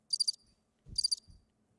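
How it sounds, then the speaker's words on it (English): A cricket sound effect chirps in two short bursts of rapid high trills separated by a pause, each followed by a low thump, clear against near silence. "Why y'all put the crickets on me?"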